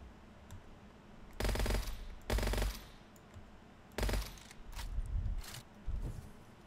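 Bursts of rapid automatic gunfire in the first-person shooter Gunfire Reborn: several loud volleys of one to two seconds, separated by quieter game background noise, with no speech over them.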